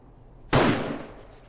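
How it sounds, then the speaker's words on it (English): A single sniper rifle shot in the video game 7 Days to Die, one sharp, loud crack that rings out and decays over about a second, alone without talk. "I love our sniper rifle."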